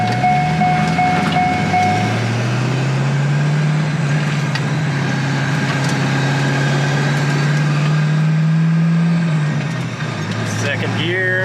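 A C5 Corvette in need of a lot of work drives around the block, its engine droning steadily and loudly throughout from close by before easing off near the end, with talk over it.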